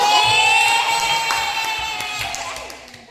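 Children in a classroom cheer and shout together in a loud burst of whoops and excited voices that slowly fades over a few seconds.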